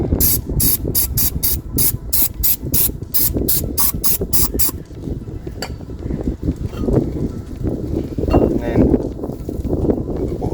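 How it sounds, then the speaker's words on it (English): Brake cleaner spraying onto a Ford Fiesta Ghia Mk6 brake, a rapid series of sharp hissing spray bursts up close, followed by quieter mechanical handling noises. "Little bit of the old brake clean on there as well."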